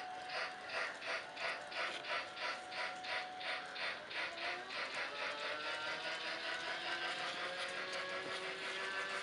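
A toy Polar Express train running around a Christmas tree gives a steady mechanical whir with a rhythmic clicking of gears that pulses at first, then smooths into a continuous, fairly close hum.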